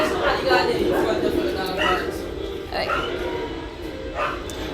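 Dogs bark repeatedly in short bursts at a moderate distance, several barks spaced across a few seconds over a steady background hum.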